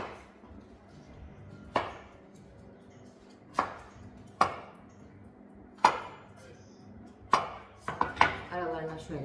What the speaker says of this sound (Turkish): Onu da böyle doğrayacağım.